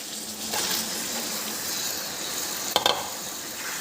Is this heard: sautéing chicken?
yes